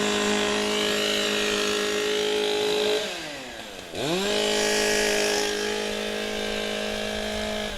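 Several chainsaws rev loudly and continuously before a timbersports competition, engines droning with a brief dip around the middle before surging back to full throttle.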